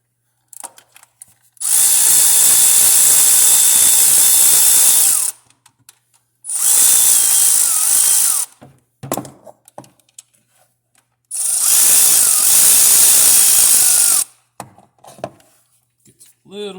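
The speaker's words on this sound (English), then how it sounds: "Little squeezy with the power ratchet." Power ratchet removing alternator bolts on a 2002 8.1 liter engine whirs loudly in three close bursts of several seconds each, with brief quiet gaps and faint clinks and talk between them.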